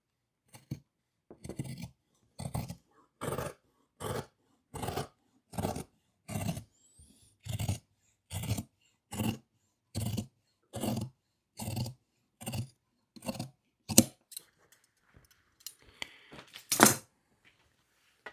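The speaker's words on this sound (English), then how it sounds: "I'm going to take my regular pair of scissors here and I'm going to cut this out" Scissors snip through fabric in a steady, even rhythm, close and fairly quiet, about a dozen and a half cuts before a few scattered final snips.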